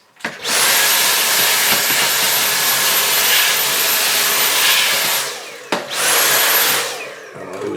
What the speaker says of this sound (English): I always keep my trusty Hoover around to pick up stuff.